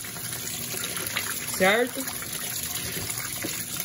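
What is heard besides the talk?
Electrolux washing machine Perfect Wash spraying water onto clothes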